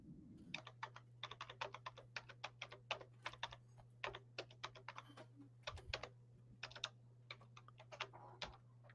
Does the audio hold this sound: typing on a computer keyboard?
yes